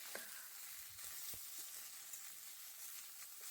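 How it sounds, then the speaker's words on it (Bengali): Cut eggplant and potato pieces frying in a pan for a vegetarian poppy-seed dish, a soft, steady sizzle with a few faint stirring knocks, alone and fairly quiet. "এবার এই বেগুন আর আলুটাকে কিন্তু আমাকে ভালো করে কষাতে হবে,"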